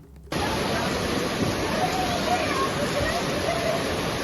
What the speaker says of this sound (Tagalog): Para na pong ilog yung kalsada